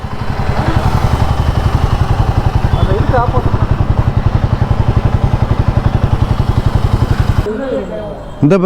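A motorcycle engine idles close by with a steady, loud, rapid thumping pulse, then cuts out abruptly near the end as a voice speaks.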